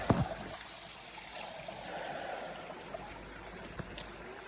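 Spring water in the Arba Minch forest of Ethiopia flows and trickles in a soft, steady gurgle. A few sharp knocks and clicks rise above the quiet, continuous wash of water.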